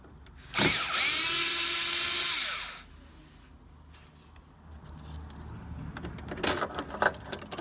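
A power driver with a Torx 15 bit whirs for about two seconds while unscrewing the halo ring bulb on a BMW 3 Series, loud and close, followed by quiet handling clicks and rattles of small parts.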